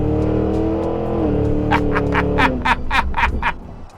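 A 2023 Cadillac Escalade-V's supercharged engine revs and downshifts in V mode, its low drone climbing in pitch while rapid pops and crackles burst out, loud and close.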